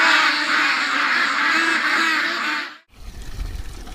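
Ducks quacking in a loud, dense chorus on a damp, cold, windy winter day, the calls running steadily for nearly three seconds before cutting off abruptly to low wind rumble.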